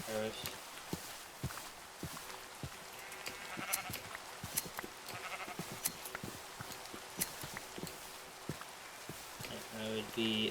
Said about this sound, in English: There's some sheep.